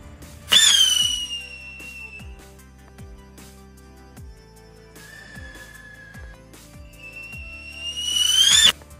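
A modified rocket firework set off for Diwali gives shrill, rising whistles at the start and again near the end, with a quieter stretch of soft whistling and low popping tones between.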